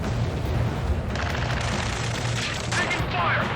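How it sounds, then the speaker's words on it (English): Dense, continuous gunfire and explosions in the combat video game Ace Combat 7, loud and unbroken with bursts layered over a rumbling battle din, and radio voices talking through it. "Taking fire! We're pinned down! Shoot back!"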